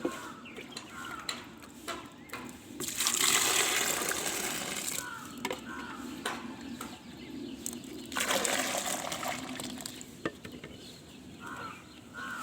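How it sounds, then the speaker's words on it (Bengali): Clean water poured into a container in two short splashing bursts, close and fairly soft, with quieter trickling and handling sounds between them. "এবার এই পাত্রে আরও পরিষ্কার জল এটা ধুয়ে দিয়ে দেওয়া হোক"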